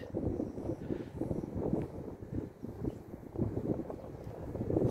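Wind buffets the microphone in a steady low rumble, with gusts rising and falling throughout and no voices.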